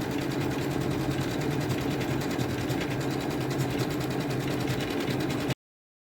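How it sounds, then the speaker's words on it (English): An embroidery sewing machine stitches out freestanding lace designs with a steady, fast mechanical whir and chatter, running loud and alone until it cuts off abruptly near the end. "Please enjoy this little sewing montage as my machine runs these beautiful designs."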